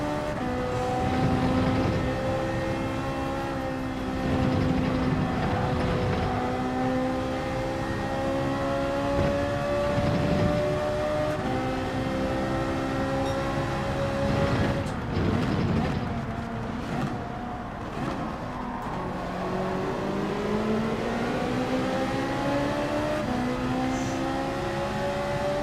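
Race car engine in the video game Gran Turismo 7, loud and continuous with rising and falling pitch as the car accelerates and shifts gears, running steadily with no talk.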